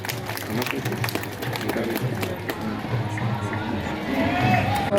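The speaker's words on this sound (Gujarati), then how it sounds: "તાળીઓના ગડગડાટથી આપણે વધાવીશું." An audience claps continuously at a temple ceremony marking a deity consecration festival for Umiya Mata in Laxmanpura, with steady crowd noise and a voice faintly under the clapping.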